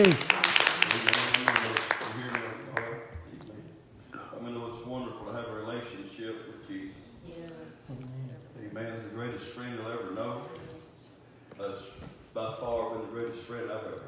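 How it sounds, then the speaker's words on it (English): A church congregation at a mission service cheers for Jesus with a burst of rapid, close clapping at the start. Amplified speech follows and carries the rest of the moment. "I'll give Jesus a good cheer."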